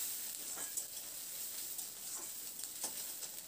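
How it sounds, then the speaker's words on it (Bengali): Onion fries gently in oil in a pan with a steady soft hiss and sizzle, and a few faint stirring scrapes. "পেঁয়াজটাকে হালকা করে প্রথমে একটু ভেজে নিতে হবে।"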